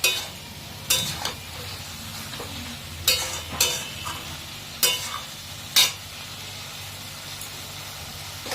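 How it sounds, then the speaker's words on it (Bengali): Mutton frying in oil in a pan while being stirred, a low continuous sizzle broken by several sharp scraping strokes of a spoon at irregular intervals, no talking. "এবার এর মধ্যে আমি মাটনগുলো দিয়ে দেবো, দিয়ে ভালো করে যতক্ষণ না তেল ছাড়া অবধি"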